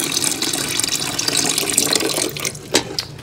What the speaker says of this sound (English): Filled up my pot with water.